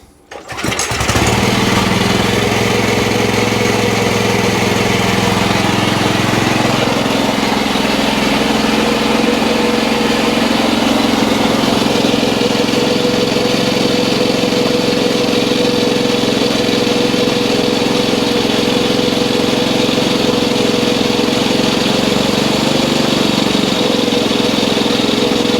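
A Massport Olympic cylinder mower engine with a freshly adjusted carburetor starts up and runs steadily at raised throttle, a loud, close, continuous drone with no talking.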